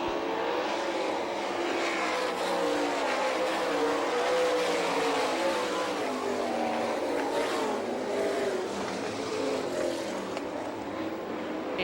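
Sprint-style race cars roar around a dirt oval at a Hartford, Michigan All Star Circuit of Champions event, a tightly bunched pack producing a continuous loud, layered engine drone with shifting pitch as they pass, no talking.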